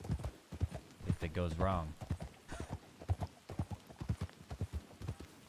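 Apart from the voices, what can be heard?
horse hooves clip-clopping in a video game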